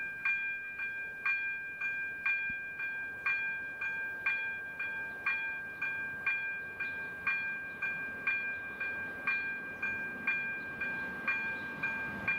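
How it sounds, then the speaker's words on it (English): A train approaches with a steady, evenly spaced series of repeated tonal beeps or chimes, around two per second, over a faint rumbling background; no one speaks. "we can actually hear the train just coming up"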